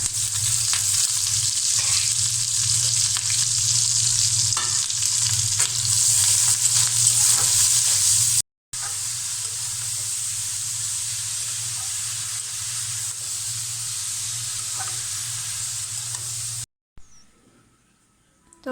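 Chopped onion, garlic and dried chilli fry in hot oil for a tempering, a loud, steady close-up sizzle and crackle that breaks off twice, the second time into near quiet.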